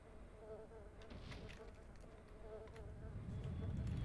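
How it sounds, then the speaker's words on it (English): Flies buzz around dead bodies in the video game Quake 2, a steady, faint insect drone running through the scene and growing slightly louder toward the end. "you can hear the flies buzzing around the dead bodies"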